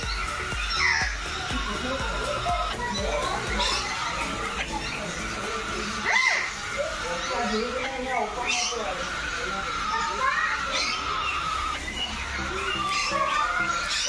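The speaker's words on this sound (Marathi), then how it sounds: "पक्षी असा ओरडत होता जोरजोराने," A white bird squawks loudly and angrily at a Mumbai bird park, harsh repeated calls scattered over several seconds amid busy background chatter and other bird sounds, with someone talking throughout.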